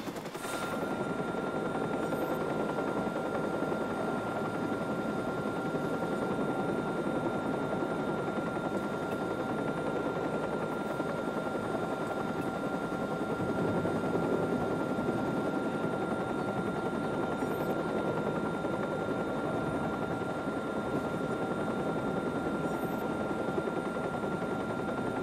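A steady helicopter rotor drone from the video game Watch Dogs holds throughout at an even, moderate level, with a constant engine whine and no voices.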